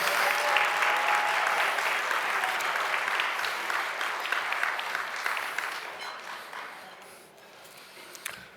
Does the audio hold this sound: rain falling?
no